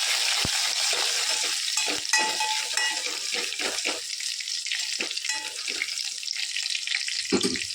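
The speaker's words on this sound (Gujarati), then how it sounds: "એના પપ્પા માટે આપણે થોડા મગ વઘારી દઈએ. લસણ અને લીલા મરચાં" Boiled moong beans tempered with garlic and green chilies in hot oil in a pan, a close, continuous sizzle with stirring clatter and bursts of spattering, no voices.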